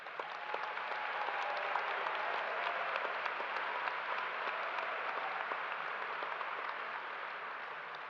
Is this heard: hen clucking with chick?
no